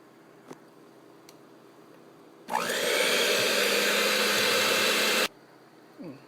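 An electric hand mixer beats chocolate into German chocolate cake batter, a steady loud whirring drone that starts abruptly, runs about three seconds and cuts off, with quiet room sound on either side.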